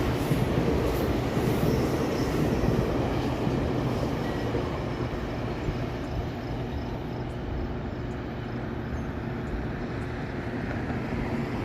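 A train rumbles past close by near Danforth GO station in Toronto, a steady, loud, continuous roar with faint wheel squeal on top and no voices.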